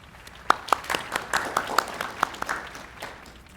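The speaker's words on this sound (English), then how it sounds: "Please join me in a round of applause for these students of honor." An audience at an honors convocation applauds students being honored, with sparse, scattered handclaps, a few sharp and close, over a soft hall background.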